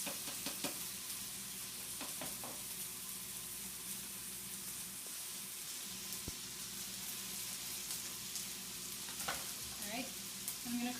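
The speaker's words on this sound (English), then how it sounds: "I want to cook it in that bacon grease" Okonomiyaki cooking in bacon grease on a hot griddle gives a continuous dense sizzle and crackle, with occasional faint knocks and scrapes breaking through.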